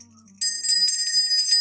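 Bright layered chime of a notification bell rings out with sustained metallic tones, loud and clear, following a brief quiet lead-in with no talking.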